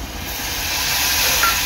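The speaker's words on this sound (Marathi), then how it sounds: "थोडंसं पाणी ऍड करणार आहे।" Water poured into a hot pan of onion cooked in Agri Koli masala for a dry bombil and potato dish sets off a loud, continuous steamy hiss that holds steady throughout.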